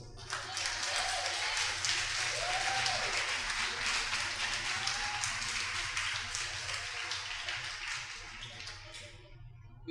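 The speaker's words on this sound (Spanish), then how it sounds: "Dale un aplauso a Dios." A church congregation in Limón applauds God, a steady wash of many hands clapping for several seconds, moderately close and fading toward the end.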